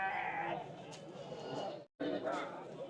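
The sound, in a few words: goat bleating at a livestock market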